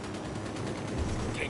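Rapid gunfire fills a firefight in the tactical shooter Ghost Recon Wildlands, a dense, continuous burst of shots with no clear gaps between them.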